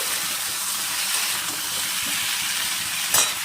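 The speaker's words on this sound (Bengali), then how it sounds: "আলুগুলোকে না আগে একটু নুন হলুদ দিয়ে ভেজে নিচ্ছি হালকা করে" Potato pieces seasoned with salt and turmeric fry lightly in hot oil, giving a steady, close sizzling hiss throughout, with one brief louder spit near the end.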